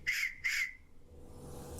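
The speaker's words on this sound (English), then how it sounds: "you keep moving it gently in and out until you either get a whistle or you get your desired pitch" A whistle made from a bullet case is blown in two short, shrill blasts in quick succession, each sharp and close, followed by quiet room noise.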